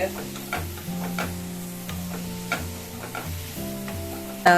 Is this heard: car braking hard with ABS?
no